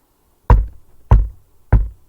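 Three heavy knocks on a door inside a home, evenly spaced about half a second apart, loud and close, each a dull thump with a short ring, with quiet between them.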